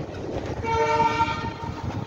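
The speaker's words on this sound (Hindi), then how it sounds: "19167 है, साबरमती एक्सप्रेस अहमदाबाद से चल के वाराणसी को जाने वाली" Sabarmati Express 19167 (Ahmedabad to Varanasi) rolling past near Zafarabad railway station, a loud steady rumble of wagons with a sustained horn tone sounding through the middle, close by and without talk.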